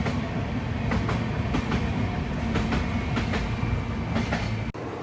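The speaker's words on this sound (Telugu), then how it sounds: "అటుపక్క ఒక ట్రైన్ అయితే వెళ్ళిపోతుంది." A train rumbles past on the adjacent track, heard from inside a moving Krishna Express carriage, with a loud continuous roar and repeated rhythmic clickety-clack wheel beats, ending with a sudden brief dropout.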